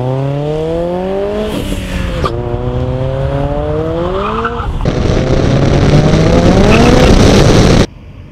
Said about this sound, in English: Standing mile racing in an NG900 sure looks like fun.